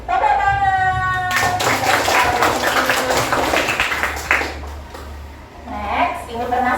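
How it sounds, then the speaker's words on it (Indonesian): Children in an Indonesian classroom break into a burst of clapping for several seconds, dense and close, with voices mixed in before and after as the applause fades. "Tepuk tangan."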